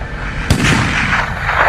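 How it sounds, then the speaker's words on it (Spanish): A sharp gunshot cracks out, followed by a rolling echo and a noisy tail, a single loud report in a World War II prison camp escape documentary. "Oí los disparos y enseguida me figuré lo que había pasado."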